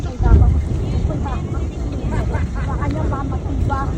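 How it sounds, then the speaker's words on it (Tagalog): Strong wind buffets the microphone aboard a ro-ro ferry on a rough sea bound for Alabat, Quezon, a loud, continuous low rumble and roar with no pauses. "Lakas ng hangin."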